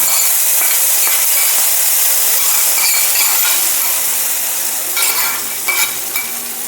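Cashews fried in ghee, still hot, poured into pineapple payasam in an uruli, giving a loud, steady close-up sizzle and hiss with faint stirring clinks that eases slightly toward the end.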